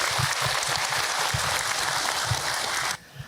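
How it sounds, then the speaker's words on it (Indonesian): Applause from a talk-show audience for a woman who asked a question, dense steady clapping filling the room, then cutting off abruptly near the end. "Tepuk tangan buat ibu yang sudah bertanya"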